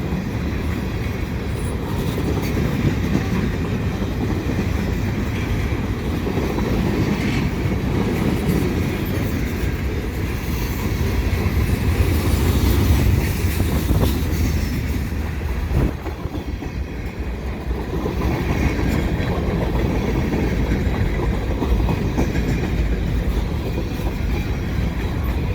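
A CP mixed freight train of empty flat cars rolls past close by on a windy day, with a loud, steady rumble and clatter of wheels on rails that lasts throughout.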